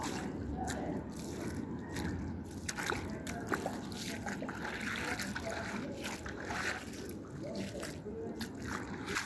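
Ocean waves washing over a rocky shore at low tide in the afternoon, a continuous close sloshing and splashing wash with trickles and drips, steady and moderately loud throughout, with no speech.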